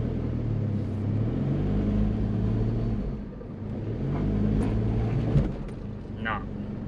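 An off-road 4x4 with a BGT4X4 front e-locker revs hard as its wheels spin against a rock, engine droning and surging in uneven bursts at close range, with brief scrabbling noise near the end.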